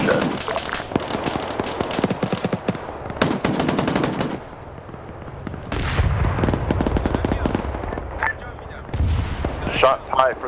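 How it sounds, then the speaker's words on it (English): Anti-tank shots and rapid gunfire in a modern military video game: loud bursts of automatic fire and heavy booming impacts repeat near and far throughout, with a few quieter gaps. "Shots high for those AT shots."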